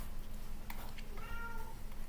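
Cat meowing once indoors, a short rising-and-falling meow near the microphone, preceded by a faint soft sound, over a steady low hum.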